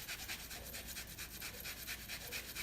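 A quarter of a pear is minced with a knife right over a bowl of beef bulgogi marinade, giving steady rapid rubbing, rasping chops close by, with no talking.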